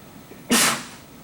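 A single sharp sneeze bursts out in a quiet classroom during a math lecture, loud and brief against the low room hum, with no talk over it.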